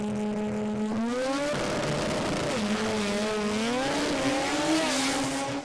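A small-tyre drag racing car roars down the strip at the Brisbane Jamboree, its loud engine note climbing and dropping as it shifts up through the gears, continuous and steady from a fixed spot.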